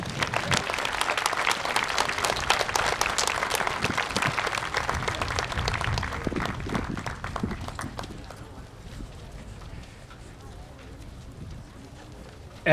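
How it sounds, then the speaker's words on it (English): Applause from a school ceremony audience for a group called C5 at a June moving-on event, dense clapping filling the first eight seconds before fading to quieter room sound. "All right, a round of applause for C5."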